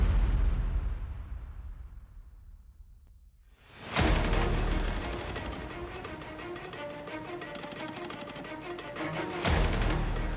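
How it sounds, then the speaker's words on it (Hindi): Loud construction clatter and banging while a reality TV show set is being built, with sudden heavy crashes and bursts of rattling over a steady rumble, after a quieter stretch. "आप कंस्ट्रक्शन की आवाज सुन सकते हैं।"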